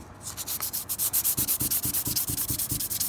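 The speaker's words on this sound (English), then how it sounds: "start sanding this with a high grit" Rhythmic scraping of high-grit sandpaper rubbing back and forth on metal fresh from the forge, steady strokes about three per second, close and loud with no talking.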